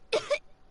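A character in Genshin Impact lets out two quick, close coughs in a short burst, clear against a quiet background.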